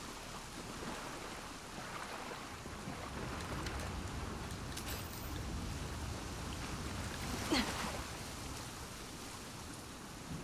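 Steady rain falls in The Last of Us Part 2, a dense, even hiss that runs the whole stretch at moderate level, with a brief brighter splash near the middle and no voices.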